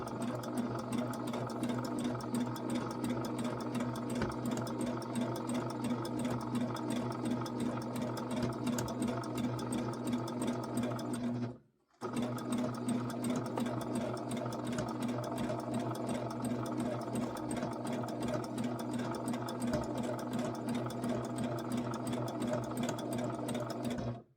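A sewing machine runs steadily while stitching an appliqué edge, a close, even whirring drone that cuts out briefly at the midpoint and then resumes at the same pace.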